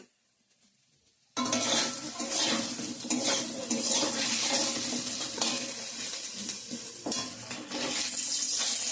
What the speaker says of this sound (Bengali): ডিমগুলো ভাজা হয়ে গেছে